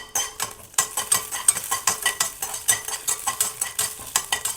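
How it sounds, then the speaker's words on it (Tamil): Pepper, fennel, cardamom and cinnamon sauté in a pan, a spatula scraping in a quick regular rhythm of metallic strokes over a light sizzle, close and loud with no voices. "இதில் பெப்பர் போட்டுக்கலாம், சோம்பு போட்டுக்கலாம், ஏலம், பட்டை இது போட்டு லைட்டாக முதல்ல வதக்கிக்குவோம்."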